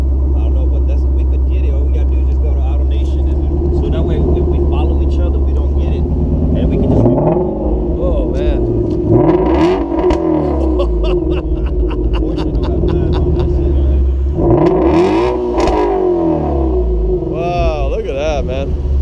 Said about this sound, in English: That's a nice exhaust.